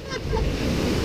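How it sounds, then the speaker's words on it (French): Ocean waves wash in with a steady, close broadband surf roar and wind noise across the microphone, no speech over it. "Oh non, les vagues"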